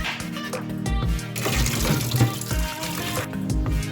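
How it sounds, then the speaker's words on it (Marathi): Water from a kitchen tap runs into a sink while prawns are washed by hand, a close, continuous splashing stream that swells louder midway with sloshing and light clatter. "आता मी स्वच्छ धुवून घेते चांगले"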